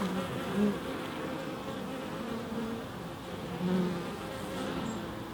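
Honey bees buzz at a hive entrance, a dense continuous drone close to the mic with individual bees swelling louder as they pass near, no talking.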